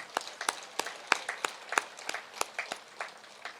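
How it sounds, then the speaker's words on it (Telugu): Scattered hand claps from an audience at a Telugu meditation gathering, a few sharp separate claps rather than full applause, fairly distant and moderate in level, with no voices over them. "దానికి కూడా క్లాప్స్ కొడదాం"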